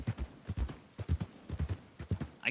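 Horse hooves clip-clop in the Red Dead-based game WildRP, a steady, even rhythm of close, clear hoofbeats that continues throughout.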